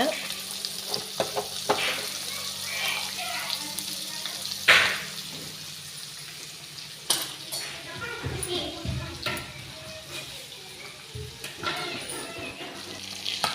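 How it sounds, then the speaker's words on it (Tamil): Fish frying in a pan in a home kitchen gives a soft, continuous sizzle with scattered clinks and scraping. Someone speaks over it at moderate distance. "ரசம் வச்சு முடிச்சுட்டு மீன் வந்து வறுத்துட்டு இருக்கிறாங்க"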